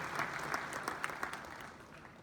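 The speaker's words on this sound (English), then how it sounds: "Please, a round of applause for her." A crowd applauds steadily, a dense patter of many hands clapping at once that holds for the whole stretch and tapers off slightly at the end.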